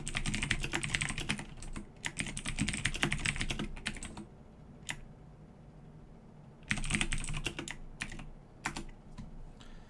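Rapid bursts of typing on a computer keyboard, entering data into a spreadsheet, with steady clicky keystrokes in runs broken by a pause of a couple of seconds before the typing resumes; close and clear, with no talking.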